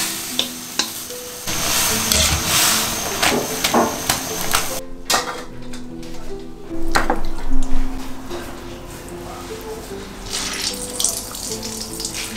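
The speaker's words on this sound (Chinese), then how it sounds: "水 开了，萝卜菜倒进去" Radish greens dropped into a pot of boiling water in a rural home kitchen for blanching: splashing, bubbling and stirring, with clattering utensil knocks and a brief quiet gap midway, and no talking.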